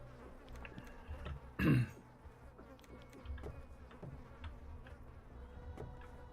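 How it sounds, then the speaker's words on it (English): Wasps buzzing in the video game Wizardry 8: a single short, loud buzz stands out over a steady low ambient drone, with no one talking. "That sound was these wasps."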